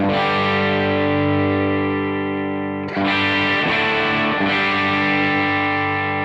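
A distorted electric guitar through a Dr Z Z Wreck amp rings out with sustained, bright chords, then new strums cut in with a buzzy, treble-heavy tone as the treble control is turned up.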